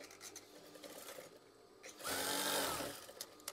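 A sewing machine stitches a folded green curtain tie in one quick, loud whirring burst after quieter handling sounds, close and alone.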